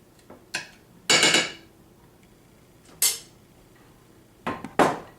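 Metal spoon scraping and clanking in a pan while half a cup of enchilada sauce is smeared across it for beef enchiladas, with a few separate bursts of scraping and clatter between quiet pauses.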